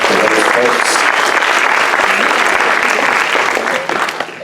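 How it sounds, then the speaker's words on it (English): A round of applause for volunteer assistants at an evening event at CSU Monterey Bay in Seaside, California, with loud, dense clapping from the audience that holds steady and then thins slightly near the end. "Great round of applause for those folks"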